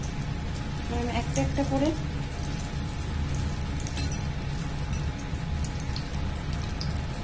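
Coated chicken pieces for a Schezwan chicken dish deep-fry in oil, a steady, dense crackle of bubbling fat running the whole time, while a person talks over it.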